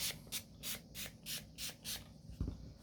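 Repeated short hissing bursts of cleaner sprayed onto a ukulele, about six even pumps in quick rhythm, close and fairly quiet, ending with a soft knock.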